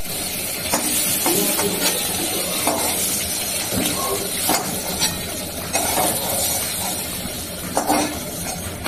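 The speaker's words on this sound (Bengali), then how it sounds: "সুন্দর করে আলুগুলাকে ভেজে নেয়" Potatoes fry in a pan with a steady close sizzle and hiss, while frequent scraping and stirring clatter breaks through the sound.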